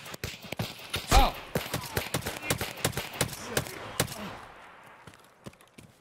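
Suppressed gunshots and bullet impacts hitting the player in Escape from Tarkov, a string of sharp, irregular cracks and snaps, with one heavy hit standing out early, before the shots thin out and fade.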